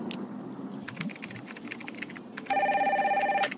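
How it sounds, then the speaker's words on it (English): Telephone ringing in the Nancy Drew game Danger by Design: a steady electronic ring starts after a stretch of soft keyboard-like clicking and continues loudly to the end, with no talk. "Get the phone, please."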